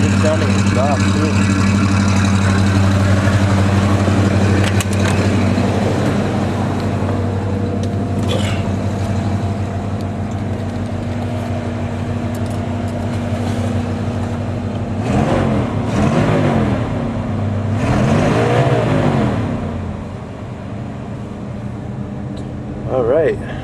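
A 1981 Chevy G30 Lazy Daze RV engine running after an old cold start, a steady low idle with a couple of brief revs rising and falling later on, with some talk over it.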